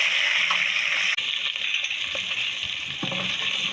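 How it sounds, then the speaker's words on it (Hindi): Garlic-ginger paste and cumin seeds sizzle steadily in hot oil for an aloo gobi matar sabzi, a continuous close hiss with a brief break and a few faint stirring clinks. "अभी लहसुन अदरक हमारा भुन गया"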